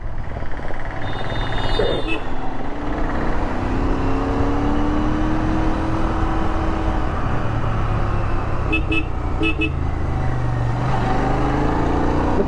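A Royal Enfield Continental GT 650 motorcycle is ridden on the road with a loud, steady drone of engine and wind. Short horn toots sound near the start and again about two-thirds of the way through.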